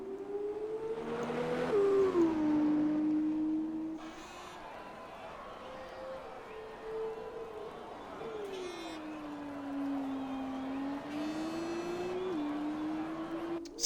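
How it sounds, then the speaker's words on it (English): A Formula 2 race car in a racing video game screams at full speed from onboard, its engine pitch rising and falling through gear shifts and corners, loud and continuous with no talk. "Now we are riding on board with Oxygen Thief, going full speed."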